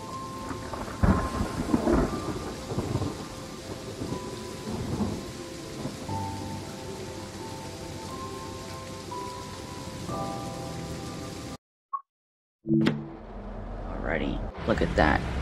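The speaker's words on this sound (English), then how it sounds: "Let's do a lightning storm." Thunder rumbles over steady rain pattering on the ground during a thunderstorm in the Train Sim World 3 railway simulator, with a brief silent gap before the rain and thunder return, and talk heard throughout.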